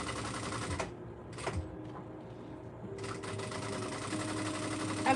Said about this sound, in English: I'm going to do the top stitching on the strap pieces